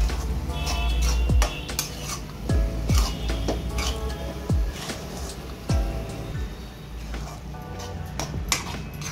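A spoon stirs khoa into carrot halva in a pan over a high flame, giving repeated scrapes and soft clinks against the metal. The strokes come at an irregular rhythm, close and moderately loud.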